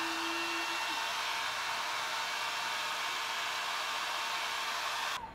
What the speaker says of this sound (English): it is like a turbo blow dryer, and it's very powerful